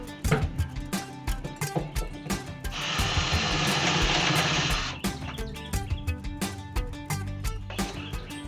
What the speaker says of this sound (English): now I should be able to drill these rivets out and get all this disconnected